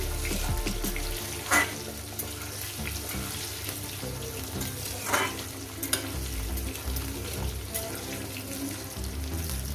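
Potatoes frying in oil with turmeric and salt for a Bengali fish and poppy-seed curry give a steady close sizzle, broken by stirring scrapes and a few sharp spoon clatters.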